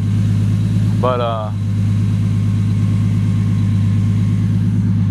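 A 700-horsepower 1998 Toyota Supra on an E85 tune idles steadily while warming up, a loud continuous low rumble with a rough pulsing beat, running throughout as a voice speaks briefly over it.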